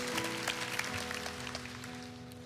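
A church congregation claps together during a sermon, a steady, moderately loud wash of applause over sustained, held musical tones.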